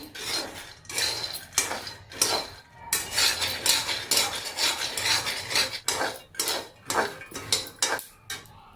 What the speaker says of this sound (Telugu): ఇలా వేసేసి కాస్త లో ఫ్లేమ్లో వేయించుకోండి